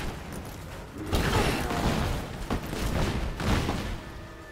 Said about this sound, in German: Haha, Explosionspfeile, Bitches.